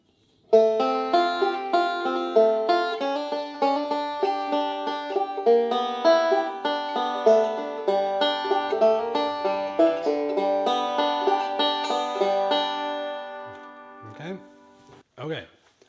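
Banjo picking line 5 of the tune Little Maggie, a clear, bright run of rolling plucked notes in a steady rhythm for about thirteen seconds, then trailing off into a few soft closing sounds.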